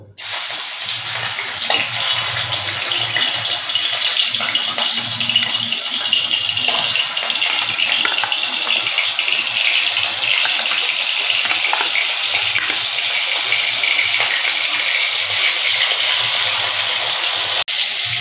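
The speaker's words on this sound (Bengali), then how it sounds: "আমি একটা একটা করে ভেজে নেব" Chicken pieces fry in hot oil in a kadai, giving a loud, steady, hissing sizzle that runs unbroken from start to finish.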